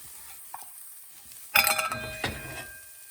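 Ginger, onions and garlic hit a hot pan for an elk stir fry, bursting into a loud sizzle halfway through after quiet clinks, then settling into steady frying with a second flare of hiss.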